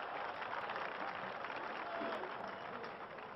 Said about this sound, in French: Le public applaudit cette action.